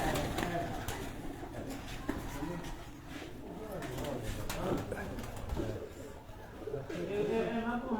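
A pigeon of another breed coos while held in a person's hand, its soft repeated calls mixed with nearby speech and handling noise at close range.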